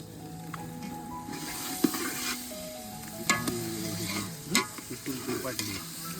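Marinated chicken dropped into a hot pot over an outdoor fire in a forest: a close, steady sizzle broken by scraping stirs and sharp clinks of a spoon against the metal pot, no voices.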